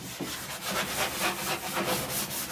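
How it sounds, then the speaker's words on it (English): Sandpaper rubs back and forth over a milk-painted wooden surface in quick, rhythmic strokes, close and moderately loud. "always a good idea to give it just a little sand"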